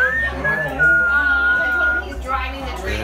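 A person whistles a Christmas tune up close, one clear sustained melody line, with light room noise underneath.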